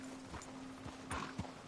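Horse hooves clopping in Red Dead Redemption 2, a few soft, fairly close hoofbeats over a steady low hum, with a brief whinny-like call near the end.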